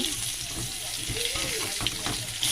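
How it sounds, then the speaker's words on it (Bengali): Potatoes frying in oil until browned in a home kitchen pan, a soft continuous sizzle with faint crackles and occasional stirring scrapes, fairly quiet throughout. "আলু দিয়ে লাল করে ভেজে নিতে হবে"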